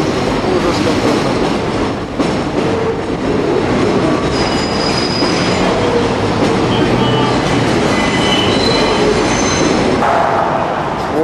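An elevated subway train rumbles loudly and continuously overhead in Brighton Beach, New York, with rattling wheels and occasional high metallic squeals throughout.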